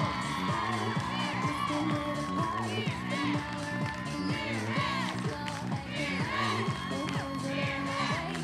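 Crowd at a junior coed all-star cheerleading competition cheering and shouting continuously, with whoops and claps over loud music throughout.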